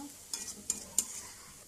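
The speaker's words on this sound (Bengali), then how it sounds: "এখানে পেঁয়াজটা ভেজে নিব।" Onion frying in a pan for a fish curry, heard as a soft, steady sizzle with three sharp stirring scrapes at even intervals, fairly quiet and close, with no talking.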